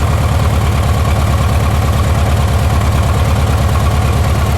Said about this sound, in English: It's in there idle. It's got a pretty throaty little idle.